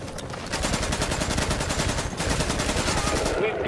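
Rapid, regular volleys of gunfire in The Division's Dark Zone, evenly spaced bursts packed tightly together across the stretch, loud and sustained with a brief lull near the end.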